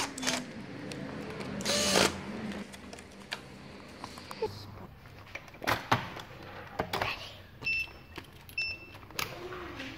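Screws driven into the board of a Sony KDL-40EX700 TV under repair, with sharp clicks, brief driver whirs and small tool knocks spaced through the clip, close by.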